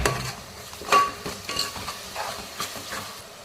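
Onions sautéing in a pan for mutton dum biryani, cooked alongside garlic paste, mint, coriander and ground shallots: close, uneven scraping and clattering stirs over a soft, steady sizzle.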